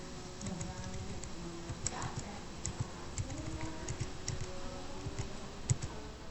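Typing on a computer keyboard to enter network switch port-security commands. Quiet, rapid clicking keystrokes come in an uneven stream with occasional sharper taps, set over a faint background hum, and nobody talks.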